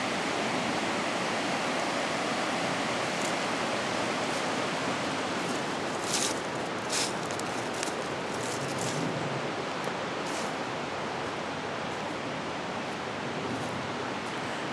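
Steady broadband rush of a flowing river in Index, Washington, constant and fairly close, with a few faint high clicks in the middle and no voices.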